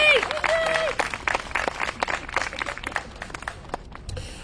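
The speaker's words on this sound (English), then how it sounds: "Big clap for Lindsay, please" Audience at a Pride celebration opening ceremony applauds and cheers, with a whoop near the start, then scattered clapping that thins out over several seconds.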